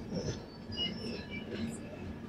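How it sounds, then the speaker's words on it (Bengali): A train pulls into Koderma station in Jharkhand, giving faint, distant rumbling with thin metallic wheel squeals drifting over it. "ট্রেন ঢুকেছে 5:27-এ"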